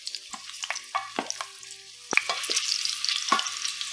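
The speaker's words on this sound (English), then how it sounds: "We'll saute the potatoes for around 4 minutes to cook them partially." Potatoes sauté in a quarter cup plus two tablespoons of hot oil on medium heat, giving a close crackling sizzle broken by sharp bursts as they are stirred and tossed in the pan.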